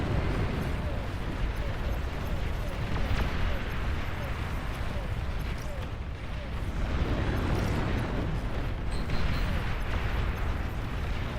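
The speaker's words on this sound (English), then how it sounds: "such strong explosions here." Explosions rumble through a large RTS video game battle, a dense, continuous barrage of booms and crackling blasts at moderate loudness, blending into one another for the whole stretch.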